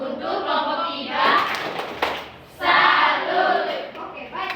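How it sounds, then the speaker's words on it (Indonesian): Schoolchildren in a classroom perform a rhythmic clapping salute for group 3, bursts of hand claps mixed with loud chanting voices, pausing briefly in the middle before resuming. "Tepuk salut untuk kelompok 3."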